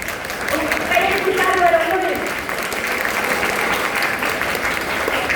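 Audience at a technical school event claps steadily, a loud continuous wash of applause with a voice speaking over the first couple of seconds.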